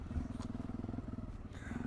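A Voge DSX650 motorcycle fitted with a Dominator exhaust idles close by, a deep steady pulsing burble with slight throttle swells.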